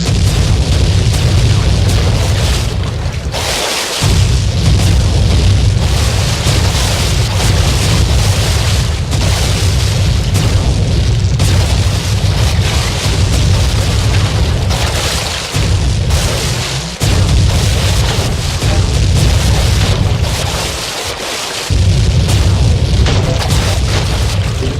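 Heavy cannon fire from pirate ship battles in the video game Sly Cooper 3, a near-continuous barrage of loud, deep booming blasts rolling one into the next for the whole stretch, with only brief dips between volleys.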